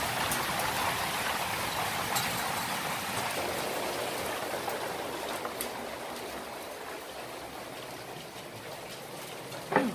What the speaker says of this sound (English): Biggest hail I've seen in years.